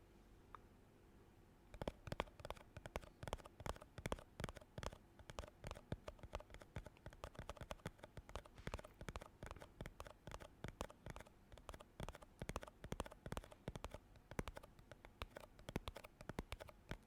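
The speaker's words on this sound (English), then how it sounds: "I have a lotion here that I could tap on." Light fingertip tapping on a plastic lotion bottle, close and quiet: a rapid, steady patter of small clicks, sparse at first and then continuous, with no talking.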